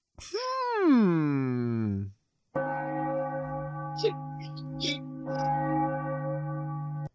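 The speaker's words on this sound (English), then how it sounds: "Church bells are ringing." A long descending wail gives way to a sustained, resonant ringing of church bells, loud and steady with a few brief accents, in a Spider-Man animated cartoon.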